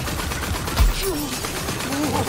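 Rapid gunfire in the fantasy shooter game Wonderlands, a dense stream of shots with a heavier thump partway through, mixed with a speaking voice.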